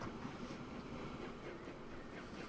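Steam train of the 1825 Stockton and Darlington Railway era running in the Transport Fever 2 game, a steady rumbling chug with airy hiss heard alone at moderate level throughout.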